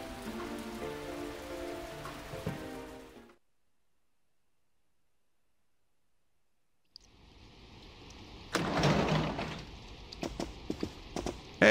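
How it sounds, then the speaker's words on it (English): Rain falling in the video game Persona 4, a soft, steady patter heard after a stretch of music and a silent pause, with scattered louder drops and splashes near the end. "Good thing it looks like the rain will keep up all night."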